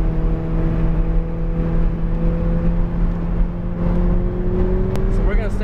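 Supercar, a Ferrari, McLaren or Lamborghini, accelerating hard on a race track: a loud, steady engine drone with a rising pitch that sustains close up for several seconds.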